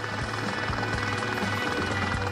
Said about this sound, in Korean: 매일 헬기를 타고 출근하기 때문이죠.